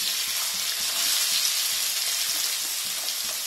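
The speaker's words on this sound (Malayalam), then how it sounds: "അപ്പം ഞാൻ ഇനി ഇതിലേക്ക് അരിഞ്ഞു വച്ചിരിക്കുന്ന ഉള്ളി ചേർക്കാൻ പോവാണ്." Chopped onion for momo filling frying in a pan, a steady bright sizzle up close with occasional soft stirring taps, no voices.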